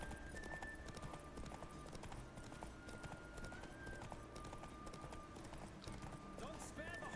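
A horse gallops in The Witcher 3, its hooves clip-clopping in a steady rapid rhythm under continuous game music and ambience, with a snort or whinny near the end and nobody speaking over it.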